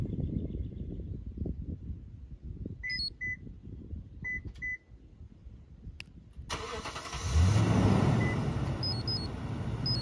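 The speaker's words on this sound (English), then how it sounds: "Then it'll beep after the truck started." A 2014 Toyota Tundra pickup starts by push button. Soft electronic beeps sound first, then the engine catches and settles into a steady, close idle with a rising rumble, and more beeps follow over the running engine.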